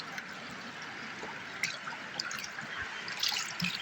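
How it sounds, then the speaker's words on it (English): Water poured from a container into a gold prospecting pan during a snuffer bottle dump, a steady close splashing trickle with a few brighter drips, no talk. "let's get a little water in this pan."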